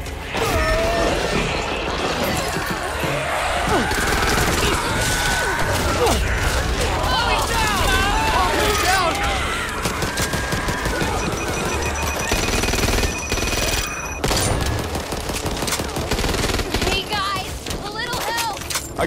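Rapid bursts of gunfire and clattering weapon mechanisms from the video game Back 4 Blood, loud and nearly continuous, layered with frantic action sounds while players talk over it.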